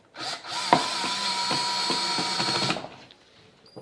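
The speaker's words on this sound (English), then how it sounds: "The drill's a little awkward." A power drill bores into wood while building a soap mold, a loud steady whine for about two seconds with a sharp knock early on, then winding down.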